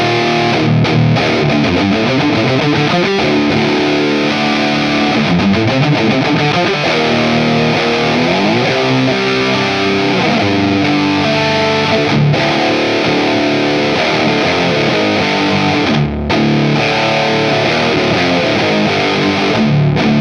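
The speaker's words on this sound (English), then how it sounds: "let's crank up that distortion and check out some heavy riffs." Heavy distorted riffs on a Zemaitis electric guitar play loud and continuous, chugging chords with sustained crunchy tones and brief pauses between phrases.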